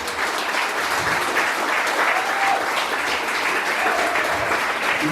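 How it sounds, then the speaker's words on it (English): Sustained, dense applause from a crowd at an end-of-season awards night fills the room for South, loud and even throughout with no talk over it. "a massive round of applause for South"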